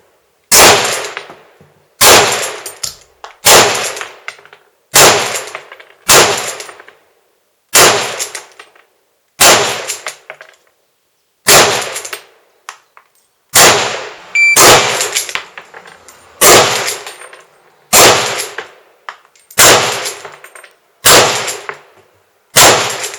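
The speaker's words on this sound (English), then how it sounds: "here's a couple of clips of aimed rapid fire." Aimed rapid fire from a modified Lee-Enfield rifle: a dozen loud, sharp shots spaced about two seconds apart, each with a quick ringing decay, steady and alone with no talk.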